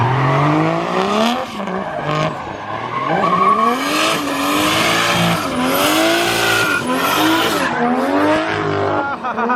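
A Trans Am drifting, loud and close, its tires squealing in long sweeping wails over a rising and falling engine roar, nearly continuous for several seconds.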